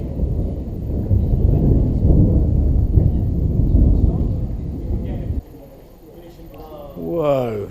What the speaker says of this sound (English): we did get a few downpours and some quite incredible lightning, which I'll just give you a few clips of here.